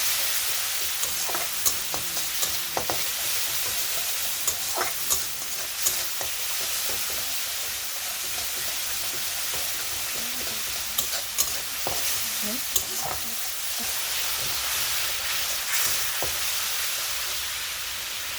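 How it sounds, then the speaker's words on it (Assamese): Masala of ground turmeric and cumin fries in a pan, a steady close sizzle with frequent scraping stirs and clinks of a spoon throughout, no voices. "এতিয়া মই মছলাখিনি ভালকৈ ফ্ৰাই কৰি ল'ম"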